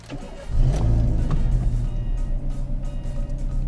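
A used car bought for $1900 starts after its fuel pump motor was replaced: a short crank catches into a loud, close engine that settles into a steady, pulsing idle.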